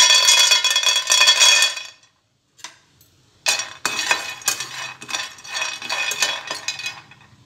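Peanuts dry-roasting in a pan on a stove, stirred in bursts of dry rattling and clinking against the metal, with a short pause between strokes.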